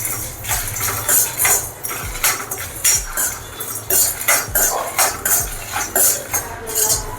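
Whole spices dry-roasted on a low flame for a cauliflower fry masala, stirred in a pan with a steady run of close, loud metallic scrapes and clinks from the spoon, rhythmic and alone.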